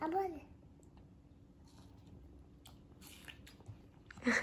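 Faint, close biting and wet chewing as a child bites into watermelon, soft crunchy squishes over a low background murmur, with a louder burst of voices at the end.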